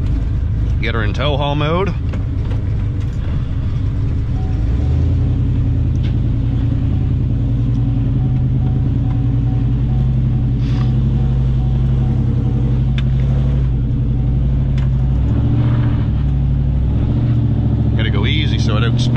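A GMC 2500HD pickup with a cammed 8.1 Vortec 496 big-block V8 starts up and settles into a loud, steady, lumpy idle rumble that continues throughout, with someone talking briefly over it near the start and end.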